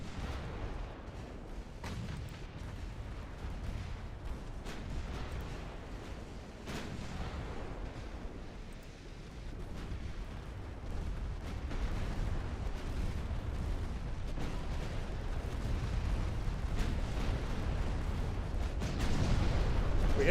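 Muffled booms of torpedo hits on ships roll through a naval battle video game, a steady low rumble of distant explosions continuing for about twenty seconds and swelling slightly toward the end.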